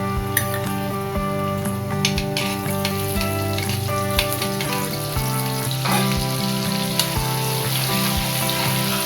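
Butter hitting a few spoonfuls of hot oil in a heated wok, a steady close sizzle and fry crackle with occasional spoon clinks against the metal.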